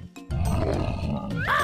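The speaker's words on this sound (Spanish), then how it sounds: "¡Oso!" A cartoon bear gives a loud, rough roar in a children's animal-naming song, one sustained growling burst over background music.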